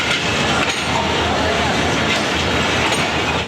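Khyber Mail passenger train pulling out of Rohri Junction, a loud, continuous rumble of rolling cars and wheels on track throughout, close by, with no break in the steady roar.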